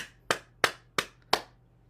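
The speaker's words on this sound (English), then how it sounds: "Now we stimulate the heart by clapping" One person claps their hands five times at a steady, unhurried pace during a stretching and wellness routine, each clap sharp, close and clearly separated by quiet.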